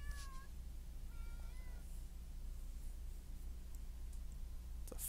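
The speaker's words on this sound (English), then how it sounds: "It's a fat cat." A cat in a video game meows a few times near the start, short rising calls over a steady low background hum, followed by a faint click near the end.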